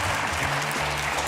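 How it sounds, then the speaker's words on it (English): Audience applause at a live morning show, a dense, steady wash of clapping filling the whole moment with a faint low hum beneath. "Big round of applause for the Human thanks, Calculator."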